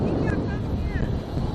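Steady, rushing wind buffets the microphone near a small Holy Stone HS370 mini drone flying outdoors in gusty conditions, with a faint whine from the drone's motors showing through the roar.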